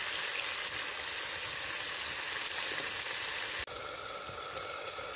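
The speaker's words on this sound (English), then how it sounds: "So if you can hear that, that's sizzling away nicely." Steady, soft sizzling of Cajun chicken and onion frying on a portable grill outdoors in a forest, a continuous crackling hiss with no talking.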